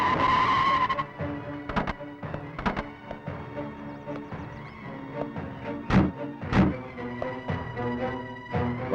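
A car braking hard to a stop in a Tamil romantic film scene, with a sustained tire skid and engine noise, broken by several sharp thuds and clatters.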